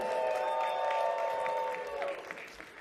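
A comedy roast battle crowd in Cleveland applauds and cheers for a comedian, a moderate wash of clapping that fades toward the end, with a voice over it early on.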